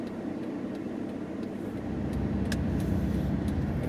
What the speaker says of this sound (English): we got a little traffic here